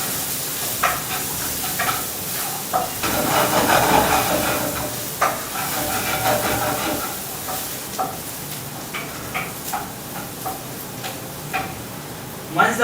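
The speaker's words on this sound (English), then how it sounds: "a little bit of green chili. We are going to saute it really well." Green chili sautéing in a pan, a moderate steady sizzle that swells for a moment, with intermittent clicks and taps of stirring and a faint voice in the background.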